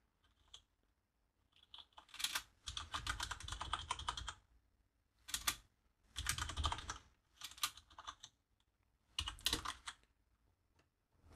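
Bursts of rapid typing on a computer keyboard while entering database code, clustered into several quick runs of key clicks separated by short pauses, close and clear with no talking.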